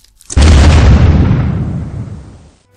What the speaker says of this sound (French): mets un pétard aux toilettes là